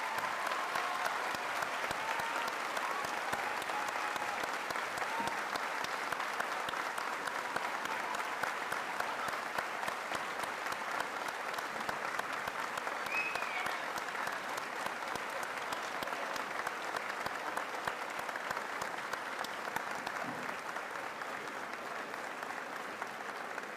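A commencement crowd at Mineral Area College gives graduating veterans a long, sustained round of applause, dense and even throughout, heard from within a large hall and easing slightly toward the end.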